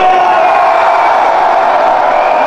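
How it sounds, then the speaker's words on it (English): Wrestling arena crowd at a Hacksaw Jim Duggan versus Psycho Sid match howling and cheering, a loud, dense, sustained roar with no breaks. "As the crowd gives a big howl, showing Psycho Sid who they want to win here tonight."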